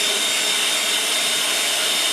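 Steady, loud abrasive hiss of a power sander working over a vehicle headlight lens, unbroken for the whole stretch with no voices.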